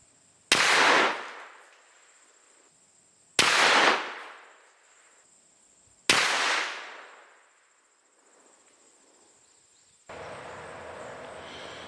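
Three loud, sharp gunshots from a Marlin 1894 .44 Magnum lever-action rifle firing 270-grain rounds, spaced a few seconds apart, each with a ringing decay outdoors, and insects buzzing faintly in the background.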